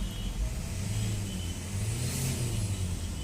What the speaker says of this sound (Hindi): गाड़ी एकदम बढ़िया स्टार्ट हो रही है। एक्सेलेरेट करके देखते हैं।